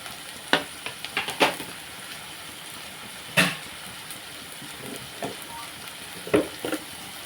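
Onion frying in a pan with salt, turmeric and curry leaves, a soft continuous sizzle broken by several sharp scrapes and knocks of a spoon stirring against the pan at uneven intervals, close by.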